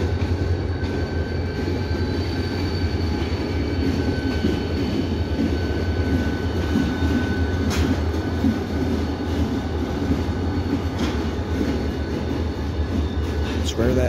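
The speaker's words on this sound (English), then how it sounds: "Switcher train." A slow CSX GP switcher freight locomotive rumbles past on a passenger rail line with a steady, heavy engine drone and faint metallic squeals and clanks from the rails.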